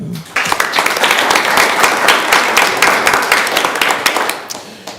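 Audience applause at a school board meeting honoring an all-league athlete: dense, steady clapping from many hands, fairly close, sustained throughout without a break.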